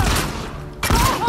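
Rapid bursts of gunfire from The Last of Us Part II, loud and close, cracking in quick succession with a short lull before another volley, while a voice may talk over the shooting.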